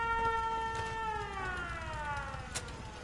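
A settlement base siren in Fallout 4 winds down, its layered steady tones sliding lower in pitch as it fades, with a brief knock near the end.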